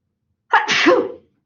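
A single sharp sneeze bursts out suddenly in an otherwise quiet room during a statistics class, rising fast and trailing off within about a second.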